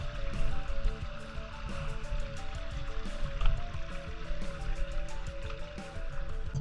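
A small creek in Kentucky's Red River Gorge runs full after overnight rain, a continuous soft babble and trickle of flowing water, close by and fairly quiet, with no talking.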